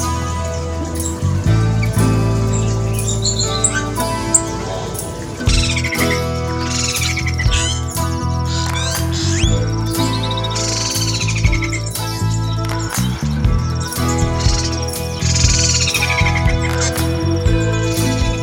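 A Sumatran subspecies of the silver-eared mesia sings clear, repeated chirping phrases close up and loud, continuing steadily throughout with no talking.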